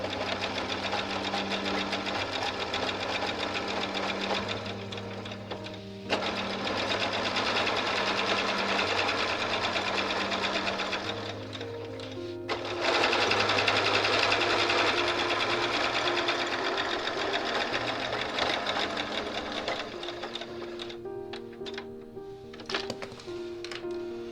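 A longarm sewing machine stitches a T-shirt memory quilt, with a fast continuous mechanical hum and needle chatter whose pitch shifts as the speed changes, loud and close throughout without talk.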